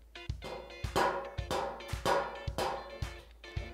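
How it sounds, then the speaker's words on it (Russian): Water condensed by an air conditioner drips onto a metal window sill outside, each drop a sharp resonant tap with a short ringing decay, about seven irregular hits in quick succession, close and fairly quiet. "Это звук капелей конденсата."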